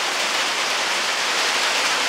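Steady rain falls outdoors on a cold 14-degree December day, a dense, even hiss of drops that holds at constant volume throughout.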